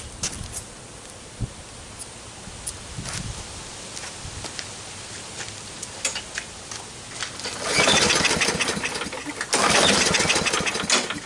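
Gardenline lawn mower engine being pull-started: repeated rustling cord pulls and sputtering attempts, then two louder bursts of engine noise that catch briefly and die.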